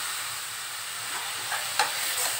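Sliced onion hits hot oil already frying with spices for dum aloo, giving a continuous bright sizzle with a few brief scraping stirs near the end.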